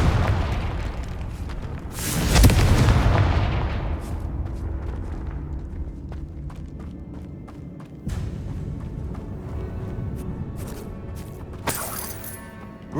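Confringo fire spell blasts in Hogwarts Legacy: a heavy booming explosion bursts out, then fades into a rumbling tail, followed by a second, smaller impact and scattered crackling pops.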